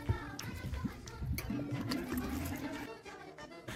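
Vodka pours onto flour in a bowl as paratha dough for aloo parathas is mixed, giving a soft, continuous liquid trickle with faint handling noise.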